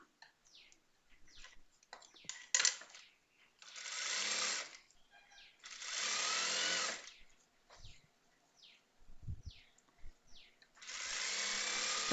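A sewing machine stitches a half-inch side seam on a petticoat in several bursts of rapid, steady whirring, separated by quiet pauses with small clicks and handling sounds.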